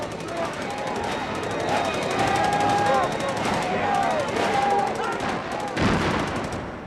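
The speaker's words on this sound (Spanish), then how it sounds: "Al final, los disparos de pistola consiguieron dispersar a la multitud." Pistol shots ring out to disperse a crowd during a violent clash, several sharp reports scattered across the clip over a busy, chaotic background with whistles or cries.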